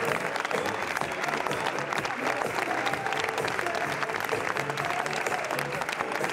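Sustained audience applause at the Cannes Film Festival 2021 red carpet, a steady dense wash of many hands clapping with crowd murmur, continuous and fairly loud throughout.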